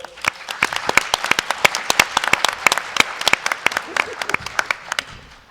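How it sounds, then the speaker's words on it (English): An audience at a morning panel event gives moderator Hannah Bolt a big round of applause, sharp distinct claps from a modest crowd, close and rhythmic, easing off toward the end. "Let's give her a big round of applause,"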